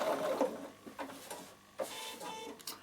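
A Bernina sewing machine stitching through leather runs in short bursts of rapid mechanical whirring and tapping, separated by brief pauses, moderately close and fairly quiet.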